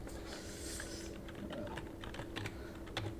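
Quiet, fast typing on a computer keyboard produces a steady patter of soft clicks over low background noise, with no talk.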